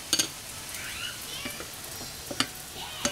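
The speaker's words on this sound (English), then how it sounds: "put them in the oil and let them fry" Batter-coated malai kofte balls fry in hot oil, a soft continuous sizzle broken by a few sharp crackling spatters, close and alone.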